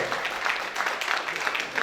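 An audience applauds at a Punjab media team's annual program, a steady wash of many hands clapping at moderate level throughout the short stretch.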